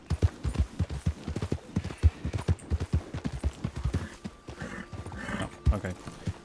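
A horse in the Red Dead-based WildRP game clops along at a quick gait, with steady rhythmic hoofbeats close up, followed by softer scattered steps as the pace eases.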